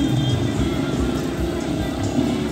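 Motorcycles rev and roar along a dirt trail in Ribeira do Pombal, with riders pulling wheelies. The engine noise is loud and continuous, with voices mixed in beneath it.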